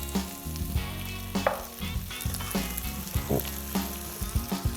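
Tomatoes frying in oil in a pan over fairly low heat for arrabbiata pasta, with a steady close sizzle and occasional stirring clatter, no voices.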